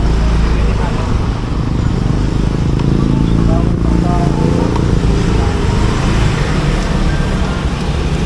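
A motorcycle engine rumbles steadily near a boardwalk, loud and continuous, with road noise and people talking over it.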